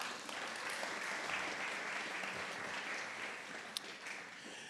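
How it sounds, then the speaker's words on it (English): An awards-night audience claps for a staff member, sustained and fairly even applause from a full room with one sharper clap near the end and no talk over it. "So a round of applause for Amy for that."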